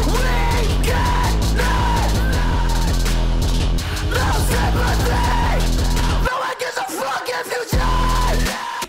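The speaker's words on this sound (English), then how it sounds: "His screams are insane." Man's harsh, strained screaming vocals in a loud track, sustained and aggressive over dense heavy beats and bass, with a brief drop near the end before the full mix returns.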